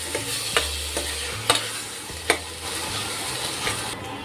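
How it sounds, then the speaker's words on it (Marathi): Washed dal sautéed in a pan gives a steady low sizzle with a few sharp stirring clinks and scrapes at irregular intervals, close and continuous with no talking. "डाळ घातल्यानंतर व्यवस्थित परतून घेऊया."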